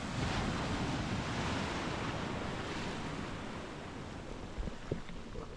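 Ocean surf washes steadily onto Karon Beach in Phuket, Thailand, a continuous broad roar of breaking waves mixed with wind buffeting the microphone, at moderate distance with no voices.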